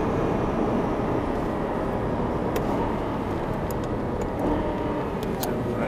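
Aston Martin coasting off the throttle into a corner at Thruxton circuit, a steady broad engine and road rumble heard from inside the car, with faint wind noise and occasional light clicks throughout.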